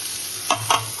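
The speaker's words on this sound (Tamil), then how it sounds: "தக்காளி வதங்க வச்சு கொஞ்ச நேரம் மூடி வைக்கணும்" Tomatoes frying for an egg curry in a pan, heard as a soft steady sizzle marked by two quick close stir scrapes, with no one talking.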